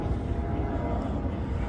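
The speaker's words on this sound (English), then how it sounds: "There's a plane taking off. LaGuardia is not far over there." A plane taking off from nearby LaGuardia Airport outdoors, a steady broad low roar of jet engine noise that fills the whole moment, distant but continuous, with no talking over it.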